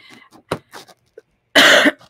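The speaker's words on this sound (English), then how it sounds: "Sorry again for coughing in your ear." A single close, harsh cough bursts out near the end, after a few faint breaths and small mouth noises.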